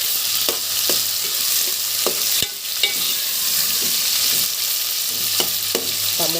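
Chopped tomatoes frying in a pan for a brinjal and raw mango curry, with a loud steady sizzle and a few scraping stirs of a spoon against the pan, no talk.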